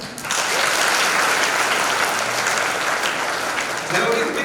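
An audience at a Hindi Day poetry reading of Rashmirathi in Nadiad bursts into loud, sustained clapping that fills the hall, with a voice faintly underneath.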